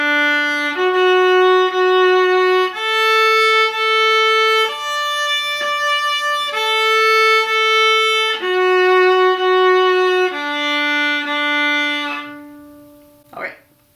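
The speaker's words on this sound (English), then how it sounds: "So today I'm gonna play for you the arpeggios we worked on in our last lesson." Bowed arpeggios on a string instrument, played from the frog, with sustained notes stepping up and down in a steady, even rhythm, loud and close with no talk, ending in a brief bow scrape.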